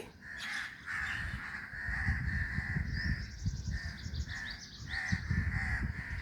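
Crows caw repeatedly in loud, harsh bursts at close range, several calls overlapping over steady background noise.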